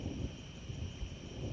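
Deep, low rumble of thunder rolling after a large lightning strike during an approaching rainstorm, steady and moderately loud outdoors with no talking.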